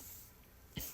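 A single brief throat clear near the end of a quiet second, close to the microphone.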